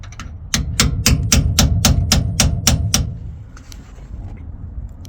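Hammer tapping a wedge bolt into a Kenworth T880 pusher axle kingpin, about ten sharp metallic strikes in quick steady succession, close and loud, then a few quieter clinks.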